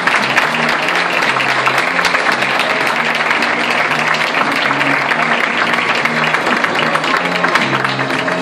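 Audience applause at a tribute to senior citizens in Barrial de Gáldar, steady and dense for the whole stretch, with music playing underneath.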